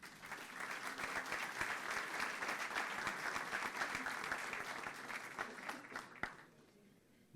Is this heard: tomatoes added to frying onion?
no